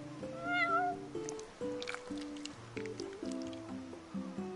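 In Final Fantasy 15, a cat meows in short chirpy calls over game music, with soft wet dripping and squishing sounds around it, at a moderate level.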